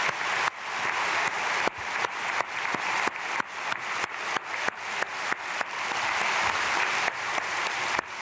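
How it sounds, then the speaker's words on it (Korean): A church congregation bursts into loud, sustained applause after a choir of youth and teachers sings, dense clapping filling the hall for several seconds with sharp individual claps standing out, and no talking over it. "우리 크게 박수로 축복하겠습니다."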